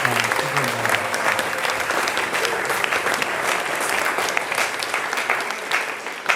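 Sustained applause from a jazz concert audience for a soloist of a studio jazz band, a steady dense patter of clapping with a brief voice near the start, fairly close.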